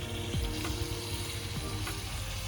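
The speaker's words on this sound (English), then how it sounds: "Hear that sizzle right away because that skillet's nice and hot." Bacon sizzles steadily in a hot skillet at a cooked breakfast, a constant close crackling hiss with a few faint scrapes and knocks from handling the pan, no voices.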